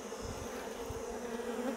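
Honeybees hum steadily at an open hive colony weakened by varroa mites, a dense, continuous buzz close by with no voices.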